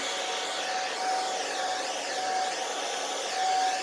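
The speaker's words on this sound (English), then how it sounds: "give a little bit of a hairdryer blow" A hair dryer blows steadily over drying crackle paint, making a continuous, close, even whoosh with a faint motor whine and no voices.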